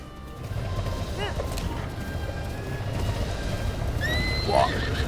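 A horse neighs in the video game Zelda: Breath of the Wild, a short whinny rising over a low rumbling game background, followed by a second, higher cry near the end.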